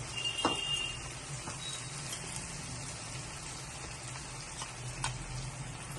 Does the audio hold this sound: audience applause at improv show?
no